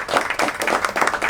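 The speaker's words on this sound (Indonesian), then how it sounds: "Jadi boleh tepuk tangan juga untuk Mas Muklas." Brief burst of audience clapping, a dense, even patter lasting little more than a second for Mas Muklas.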